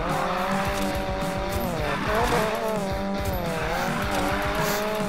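A car drifting in the video game Need for Speed Payback: steady, loud engine drone with shifting pitch and tire squeal running throughout, with no talk over it.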